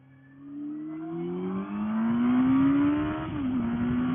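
Honda 919 Hornet motorcycle engine while riding, a steady drone that rises in pitch as it accelerates, dips briefly, then climbs again before settling, close and fairly loud with no talk.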